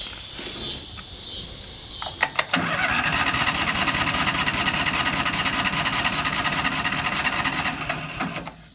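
An old welder's engine cranks steadily for several seconds on a battery jump starter, a continuous loud churning drone with sharp clicks just before it begins, running alone without any voices.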